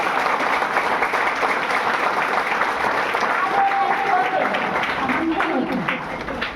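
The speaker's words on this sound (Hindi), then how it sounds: "हमारे महान गुरु रोशन भैया के जोरदार ताली होनी चाहिए" Loud, dense applause from a crowd at a meeting in a hotel in Ranchi, honouring a teacher, with voices mixed in beneath the steady clapping throughout.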